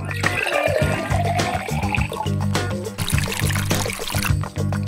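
Water poured into a measuring cup while making a gelatin dessert, a short splashing and trickling pour over a few seconds with some clatter, no talking.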